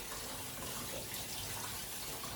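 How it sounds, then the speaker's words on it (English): A jacket being rinsed under a running tap, a steady, even hiss of flowing water throughout, fairly quiet and close, with no voices. "I'm gonna rinse it under running water"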